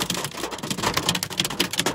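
Hail pelts down during a thunderstorm, a dense, irregular clatter of hard impacts hitting surfaces close by, loud and continuous.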